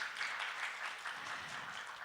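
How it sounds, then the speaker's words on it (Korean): An audience at a media conference session claps steadily, a dense wash of applause that holds at an even level throughout. "다시 한번 큰 박수 부탁드립니다"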